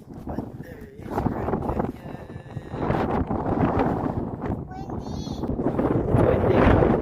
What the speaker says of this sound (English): Kuya, is that the wind? Yeah, it's the wind. It's the wind. It's windy.